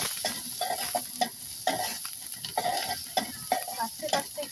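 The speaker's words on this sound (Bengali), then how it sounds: "তেলটা গরম হয়ে গেছে, এখন কাঁচামরিচ, পেঁয়াজ দিয়ে দিব" Green chilies and onion go into hot oil in a cooking pot, giving a steady sizzle with repeated stirring scrapes and clinks at a close, moderate level.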